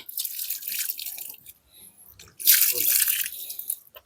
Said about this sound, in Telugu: ఇప్పుడు ఇది దీంట్లో కొంచెం నీళ్ళు వేసి ఉంచేస్తాం